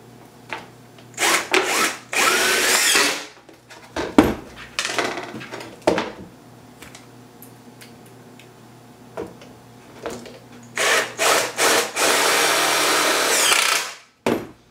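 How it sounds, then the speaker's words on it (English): A power drill runs in repeated short bursts and longer whines, driving screws into wood, with brief pauses and handling noises between runs. "I'm gonna use two screws and a drill."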